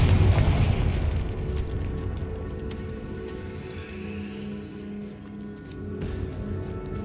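A Confringo blasting spell from Hogwarts Legacy goes off in a loud, deep boom at the start, then decays into a rumbling, crackling tail under sustained low game ambience.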